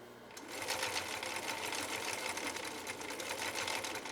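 A 1960s Husqvarna Viking 6440 sewing machine stitches a heart pattern with cam E, running in a steady, fast, close-up whir of needle strokes that carries on without a break.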